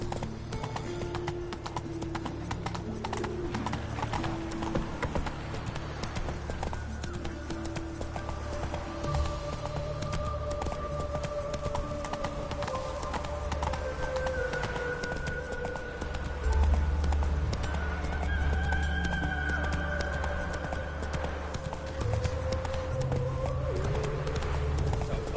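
A horse gallops in The Witcher 3 video game, its rapid clip-clop hoofbeats running continuously under game music and ambient bird sounds, steady and fairly loud throughout.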